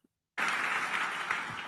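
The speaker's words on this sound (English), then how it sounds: "Thank you for that useless round of applause" A small crowd of about 27 people bursts into applause after a brief silence, a dense steady patter of clapping that holds at an even level to the end.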